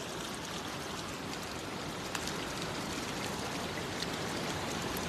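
Steady rain patters outdoors at a fishing spot in sunshine, a dense continuous hiss of drops with a few brief louder splashes, no talking.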